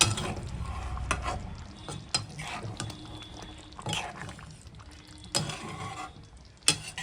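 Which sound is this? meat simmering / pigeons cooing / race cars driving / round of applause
meat simmering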